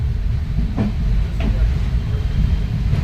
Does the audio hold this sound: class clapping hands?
no